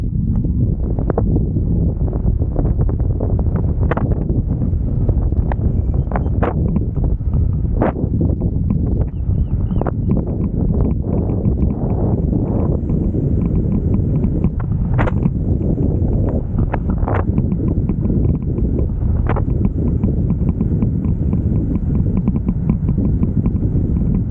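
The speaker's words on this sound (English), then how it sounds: "I'm going to come down this hill, try and hold on to the camera without dropping it, and I'm going to do a quick brake test" An Eskute Polluno Plus e-bike runs down a steep hill during a brake test, with steady, loud wind rush over the microphone and scattered rattles and clunks from the bike.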